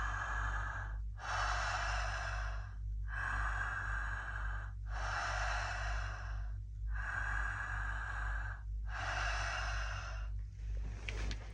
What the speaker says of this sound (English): today we're going to be doing the constant connected breath, and that is constant breathing. So it will be through the mouth for the full duration